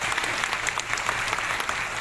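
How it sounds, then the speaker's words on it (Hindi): Steady applause from an audience at an official ceremony honoring a district magistrate, dense clapping that stays even throughout. "जिलाधिकारी महोदय हैं तो जोरदार ताली होनी चाहिए।"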